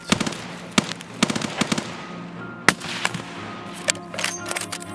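Distant gunfire from another player in Escape from Tarkov: a few scattered sharp cracks with quicker bursts between, clear and separated by short gaps, with no talk.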